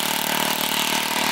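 A rototiller's small engine runs steadily after its carburetor was cleaned, giving a continuous, loud, even buzz and hum throughout.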